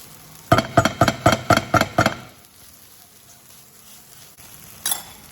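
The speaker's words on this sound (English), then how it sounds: "I'm going to add a small teaspoon of tomato paste. Just do a quick stir." Tomato paste stirred into a frying pan for vegan nachos gives about seven quick, close scraping and clinking strokes in a row, then quiet sizzle and one last scrape.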